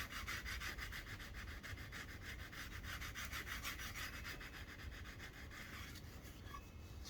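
An antler-handled hidden tang knife is sanded by hand with sandpaper, giving steady, rhythmic back-and-forth rasping strokes, close and continuous with no talking.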